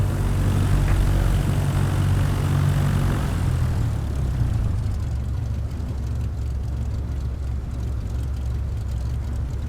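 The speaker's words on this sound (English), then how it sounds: "Taxiing to general aviation parking via taxiway Alpha Bravo" A Cessna 172 single-engine propeller plane taxiing to general aviation parking at Arcata/Eureka airport, its steady engine drone loud and close throughout, heavier and lower for the first few seconds before settling into an even rumble, with no talk.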